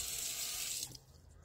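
Water running and draining in a kitchen sink through a drain plug, a steady hiss and gurgle that drops off partway through to a quieter trickle.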